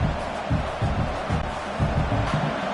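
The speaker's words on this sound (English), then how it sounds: "It's early, but this crowd is fired up. Listen to this noise here." Stadium crowd noise from a college football video game, USC at Oregon, a loud continuous roar of cheering that swells in waves, with a commentator talking over it.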